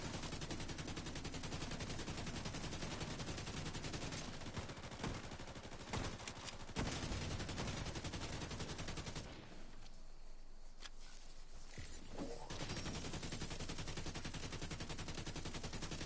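Dense automatic gunfire from a weapon in The Division 2, loud and nearly continuous through most of the stretch, with a brief lull in the middle before the rapid bursts resume.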